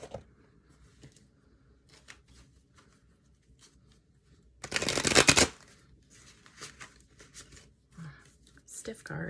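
A stiff deck of tarot cards is shuffled in one loud burst of riffling near the middle, with fainter handling rustles and card flicks before and after, while a voice talks quietly.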